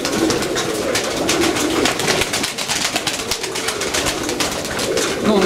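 Pigeons coo steadily in a loft, a dense, continuous murmur of soft calls from several birds close by, with no talk over it.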